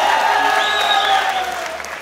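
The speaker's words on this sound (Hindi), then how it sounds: "अगर आपको लग रहा है तालियां आपके लिए हैं तो गलतफहमी ये है निम्रा के लिए।" An audience claps steadily throughout, a loud and close wash of applause with a faint tone running underneath it that slowly tapers toward the end.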